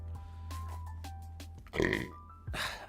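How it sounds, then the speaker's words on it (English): A single loud, throaty burp erupts midway from a streamer during a live VTuber broadcast, followed by a second rougher burst of noise, over a low steady background hum with no speech. "I shouldn't have burped"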